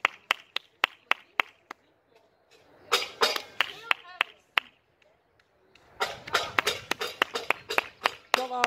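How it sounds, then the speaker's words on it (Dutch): Neighbours clap outdoors as part of a street applause for healthcare workers: sharp separate claps at first, then denser bursts of clapping, with voices talking over them. "Dus mijn geburen doet dus ook echt mee met het applaus"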